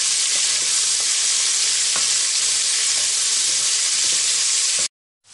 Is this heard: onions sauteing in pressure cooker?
yes